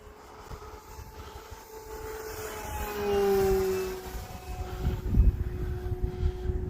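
An RC Sbach aerobatic plane flies hot inverted laps over snow on a cold winter day, its engine droning with a rising and falling pitch as it passes, moderately distant, with no talk.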